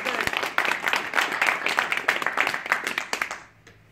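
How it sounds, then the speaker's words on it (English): Audience applause at an activist gathering, a burst of close, crisp clapping that swells and then tapers off to near silence. "Big round of applause."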